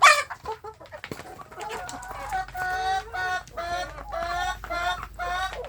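Free-range village chickens kept by a small-scale farmer cluck in repeated short bursts, close and clear, with a sharper squawk at the start and a low background rumble.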